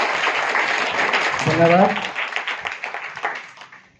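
Schoolchildren clap to welcome a guest at a village school sweater-distribution event in Morghat, Seoni Malwa, India. The dense applause is steady, with a brief spoken word over it before the clapping thins out.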